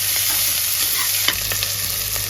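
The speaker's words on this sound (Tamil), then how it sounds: "வெங்காயத்தை போட்டுக்கலாங்க வெங்காயம் நல்லா வதங்கினா தான் குழம்பு நல்லா டேஸ்ட்டாக இருக்கும்" Onions sautéing in a hot pan for a goat rib and brinjal curry, a loud, dense, continuous sizzle with a brief stirring knock midway, close by and without talk.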